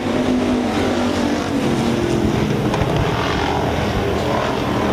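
IMCA Hobby Stock race cars roar around RPM Speedway in a heat race just after the green flag, a loud, steady blend of engines droning without a break.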